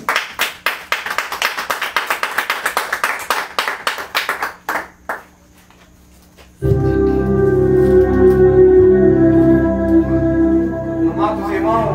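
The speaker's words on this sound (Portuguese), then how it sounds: "bater uma salva de palmas para Jesus" Congregation at an Apostolic church service claps together in a dense, lively burst for about five seconds that fades out. Music with sustained tones then starts up and carries on to the end.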